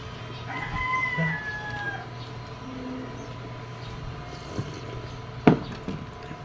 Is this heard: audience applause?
no